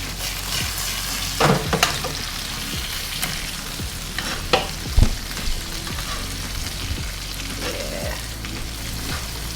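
Butter sizzles and bubbles while reducing in a hot pan, a steady crackling fry broken by a few louder clanks of stirring utensils.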